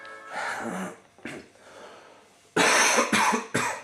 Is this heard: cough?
yes